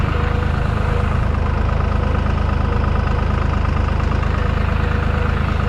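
A Deutz tractor's diesel engine running at a steady idle, a loud close rhythmic chugging with a pulsing low knock that holds evenly throughout.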